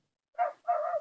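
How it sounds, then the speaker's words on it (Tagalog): A dog gives two short, sharp barks in quick succession close by outdoors near a rocky hillside, the second bark drawn out slightly longer. "Pagpasensyahan nyo kung makahal yung aso."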